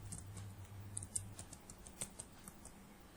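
Quiet, rapid key taps on a computer keyboard as text is typed, an irregular patter of light clicks close by with a low hum underneath and no speech.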